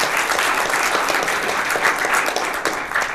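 A conference audience breaks into a round of applause, even, dense clapping from a crowd heard steadily throughout, fairly loud and with no speech over it.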